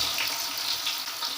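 Plantain slices fry in hot oil with a steady, loud, bright hiss and sizzle that holds without a break, close up and with no talk.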